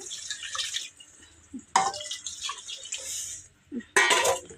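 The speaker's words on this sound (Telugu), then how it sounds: "తగినన్ని నీళ్ళు పోసేస్తా" Water pours and splashes into a metal cooking pot of curry with tomatoes in several separate bursts, loud and close, with short pauses between pours.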